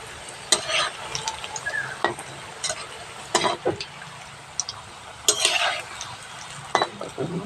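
Onions, bay leaves and spices fry in hot oil, sizzling softly while a utensil stirs and scrapes against the pot in repeated sharp clinks and strokes.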